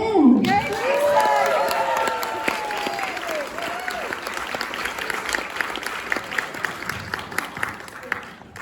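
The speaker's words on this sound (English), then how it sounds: "Give it up for Lisa again." Audience applause fills a room after a talk at a women's storytelling event, with dense clapping and a few cheers, loud at first then settling into steady clapping with scattered louder claps.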